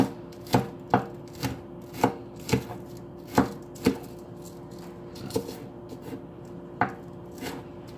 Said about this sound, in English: some of these scallions are kind of big, so you just slit down the middle when you find it like that